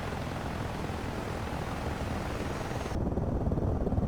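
Simulated AV-8B Harrier II jet engine from the DCS World flight game, a steady loud broadband roar that grows slightly heavier and more rumbling near the end as thrust is added.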